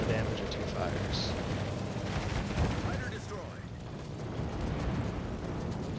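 HE bombs striking a ship in World of Warships, a dense rumbling wash of explosions and battle noise at steady loudness, with someone talking over the impacts.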